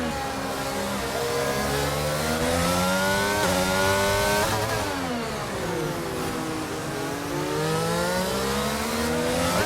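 Racing cars at speed on a circuit, closely following a Ferrari, with continuous loud engine roar sweeping up and down through gear shifts and revs, sustained without talk.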